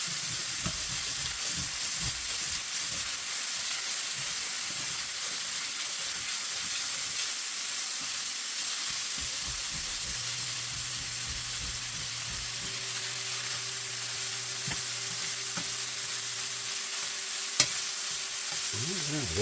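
Food sizzles and fries steadily in a Modern Innovations 10-inch skillet while it browns, a continuous close hiss with occasional stirring scrapes and a faint steady hum in the background.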